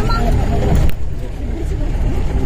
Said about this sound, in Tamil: பின்னாடி ஒரு வண்டி வருது.